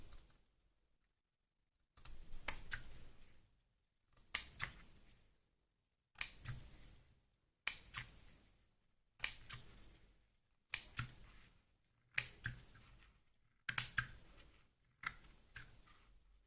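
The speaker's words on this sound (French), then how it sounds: "Donc, je vais pouvoir couper. Parce que les dimensions ont l'air bonnes. Donc on va couper comme ça." Scissors cut a shabby-style decorative heart in about eight crisp, evenly spaced snipping bursts, each a quick cluster of close clicks separated by quiet gaps.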